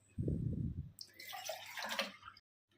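Three glasses of water are poured into a cooking pan for rice-rava kudumulu. A short low splash is followed by a brighter, gurgling pour that runs about a second and a half, then stops abruptly.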